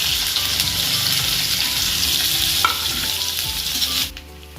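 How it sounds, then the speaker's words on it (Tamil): Steady close-up sizzling of onions frying in hot coconut oil, a continuous crackling hiss with a few stirring clinks before it quiets near the end. "இந்த சின்ன வெங்காயம் என்னென்ன தேங்காய் எண்ணெயில் நல்லா வறுபடும் போது"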